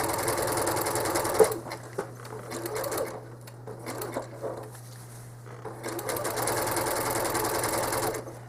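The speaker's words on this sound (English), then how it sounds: "I start stitching way out in the batting because I'm using the scissor button on my machine" A home sewing machine stitches a quilt through the batting, a loud steady mechanical whir in two long runs separated by a quieter stretch of scattered clicks and handling.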